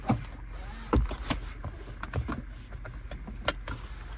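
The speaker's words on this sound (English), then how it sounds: "To use auto hold, you gotta have your seatbelt on. So let's buckle up." Seatbelt buckled inside a 2022 Toyota RAV4 TRD Off-Road: rustling webbing and a few sharp clicks and knocks close by in a quiet cabin, with no talking.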